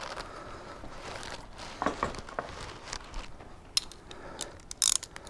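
A ratchet clicks in short bursts as it loosens the rubber-mounted top bolts on a 2018 Honda Africa Twin motorcycle during an air filter change. The ratcheting is close and fairly quiet, with a few sharper metallic clicks near the end and no talking.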